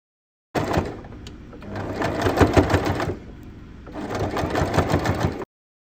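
Sewing machine stitching bias binding along its folded crease on a sling bag, two close, steady runs of rapid mechanical clatter split by a brief pause.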